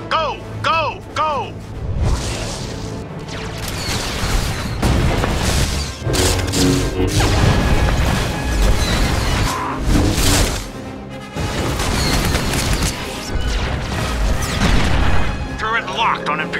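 In a war video game, a gun battery and turret fire heavy booming shots amid dense mechanical clatter and crashes, sustained and loud throughout, mixed with in-game voices barking orders.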